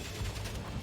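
Gunfire in the WWI video game Valiant Hearts: The Great War, a dense, continuous crackle of rapid shots with a low rumble underneath, loud and sustained through the moment.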